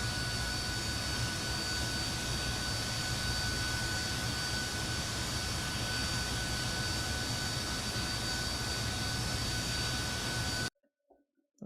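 Fokker 28 jet engine spooling up during start in Microsoft Flight Simulator 2024, a steady loud roar with high whining tones held for about ten seconds, then cutting off abruptly into near silence.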